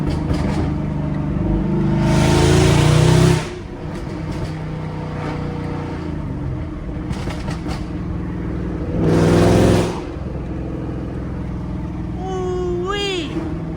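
A Shelby GT500 Mustang with a custom catless exhaust revs hard in two loud, sustained bursts separated by a lower idle rumble. A voice exclaims briefly near the end.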